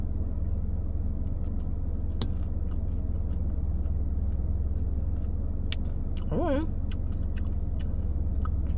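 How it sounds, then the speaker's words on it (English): Someone chews a McFlurry with Kit Kat pieces and strawberry clusters, with faint crunching and biting sounds under a steady car engine hum. "that crunch from that Kit Kat and the strawberry clusters"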